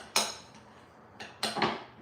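Butter is worked into cheesecake crust crumbs in a bowl with a utensil, giving a few sharp, separate clinks and knocks spread over a couple of seconds, close by and with no talking.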